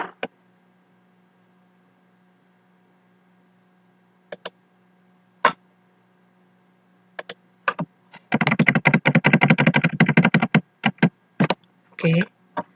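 Scattered keystrokes on a computer keyboard give way to a fast, dense burst of close typing, then a few more isolated clicks over a faint steady hum, with no voices.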